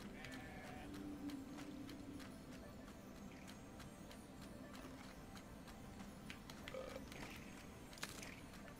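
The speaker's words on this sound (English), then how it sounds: "Got some sheep." Sheep in the video game Grow Home give faint, distant bleats over a quiet ambient background, with a few scattered calls and no speech.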